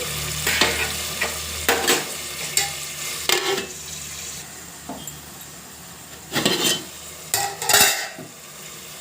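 Chopped tomatoes and onions fry in a pan while a utensil stirs them, giving a steady low sizzle broken by sharp scraping and clanking strokes at irregular intervals, close up with no talking.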